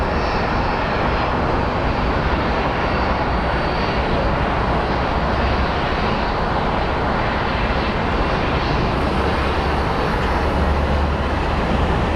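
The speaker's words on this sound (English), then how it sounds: "here comes an Embraer 175 coming in from Tulsa" An Embraer 175 airliner lands at Phoenix Sky Harbor, its jet engines giving a steady, loud broadband roar that holds without pause for the whole stretch. No one talks.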